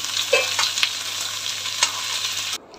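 Potatoes are stirred and sautéed in ghee in a pan, giving a steady sizzle with several sharp spatula scrapes and clicks against the pan, close up, before the sound cuts off.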